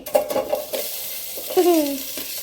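Onion and green chilli fry in a pan for a mushroom curry, giving a sizzle broken by stirring scrapes and short utensil clatter, close and moderately loud.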